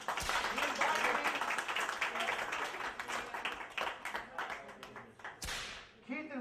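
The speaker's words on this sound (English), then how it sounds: "Round of applause for Keith Evans." Audience applause at a comedy open mic for comedian Keith Evans, a dense wash of clapping that runs loud for several seconds and then thins out, with a few sharp louder claps near the end.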